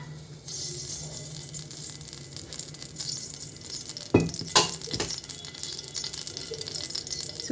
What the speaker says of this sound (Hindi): हमने गैस पे अपने पैन को रख दिया है और इसमें थोड़ा सा डालते हैं ऑयल